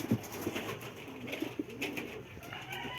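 Pigeons cooing inside a pigeon loft where birds sit on eggs, a soft, steady run of low coos close by with no talk.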